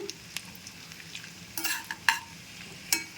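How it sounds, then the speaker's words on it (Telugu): Gentle sizzling of cashews and raisins frying in a pan over a low flame, with soft stirring scrapes and a few sharp clinks of a spoon against the pan. "తక్కువ మంటతోటి వేపుకోవాలి"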